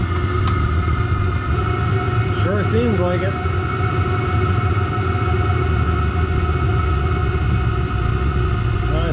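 Diesel heater fitted with a curvy exhaust, starting and running with a steady low rumbling drone and faint whine, while a person briefly speaks over it near the start.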